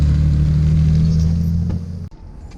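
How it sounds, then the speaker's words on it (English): A small car's engine revs loudly and close by, a steady droning rumble that holds for about two seconds, then cuts off abruptly and leaves a quieter street behind. "Whoa, that's a loud little car."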